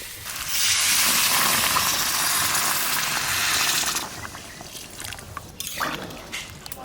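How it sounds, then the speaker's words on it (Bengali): Hot water pours into braised desi chicken curry in a pot, making a loud, rushing splash for about three seconds that then drops to faint bubbling and clinks. "মাংস কষানো হয়ে গেছে, এইবার গরম জল দিয়ে দেবো।"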